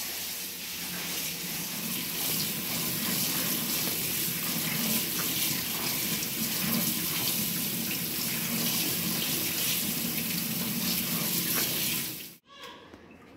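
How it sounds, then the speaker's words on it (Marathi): Running water gushes steadily from a tap into a sink for a long stretch, with faint splashing as flattened rice is rinsed in a strainer, then abruptly stops. "पोहे आपण स्वच्छ धुवून घेतले"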